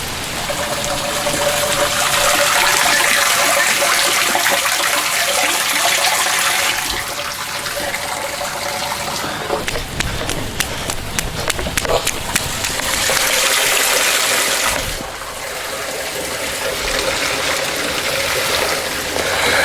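Rainwater runs and trickles through gutters in a steady broadband wash, with splashing shifts and brief gushes partway through, and faint voices beneath the water.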